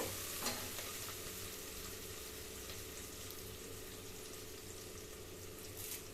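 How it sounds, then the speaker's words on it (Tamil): Three sprigs of curry leaves fry in hot oil in a pan for eggplant biryani, giving a steady, soft sizzle with a few faint pops and stirring scrapes, and no voices. "கருவேப்பிலை 3 கொத்து போட்டுக்கலாம். இப்போ லைட்டாக இது வறுபட்டுச்சு பாருங்கள்."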